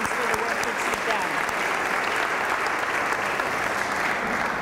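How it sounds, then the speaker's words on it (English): Steady, dense applause from a gathered audience at a community press conference, a continuous even wash of many hands clapping at moderate distance. "give yourselves a round of applause"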